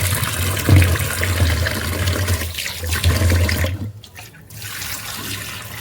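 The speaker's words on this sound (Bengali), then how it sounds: "অরলের ডালটা একটু জল দিয়ে ধুয়ে দিই ভালো করে" Arhar dal is washed under running water in a kitchen, a steady close splashing stream with a low hum, which cuts off briefly near the end before trickling on more quietly.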